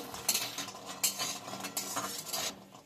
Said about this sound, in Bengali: বড়িগুলো আমি একটু নেড়ে চেড়ে ভালো করে লাল লাল করে ভেজে নেব।